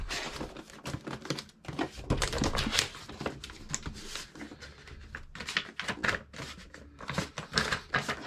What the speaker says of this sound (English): So I want to go ahead and unpack this and see what's in here.